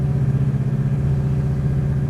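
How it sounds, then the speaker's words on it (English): Steady, loud rumble of a 454 crate V8 in a 1967 Chevrolet Chevelle SS while driving, a deep continuous engine drone with no talk over it. "Love the 454 crate motor, always a favorite of mine."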